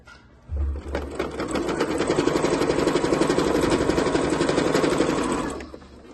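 A sewing machine runs a topstitch along a travel bag, a fast, steady mechanical chatter that starts abruptly, holds evenly for about five seconds, then stops, close and loud.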